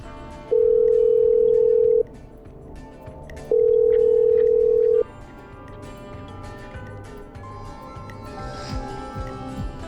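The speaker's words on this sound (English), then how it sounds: "I'm dialing." A telephone dialing out in the Killer Frequency video game: two long, steady electronic tones, each lasting about a second and a half, separated by a short gap, followed by a quieter, busier background.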